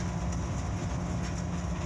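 Continuous heavy rumble of the Pakistan Railways Khyber Mail express running from Peshawar, with a low engine drone and faint rhythmic rail clatter, loud and close throughout a short stretch.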